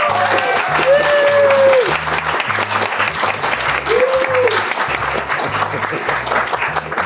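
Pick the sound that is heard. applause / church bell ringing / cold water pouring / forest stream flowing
applause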